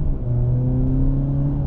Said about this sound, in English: This thing's got a pretty mean engine, if you ask me.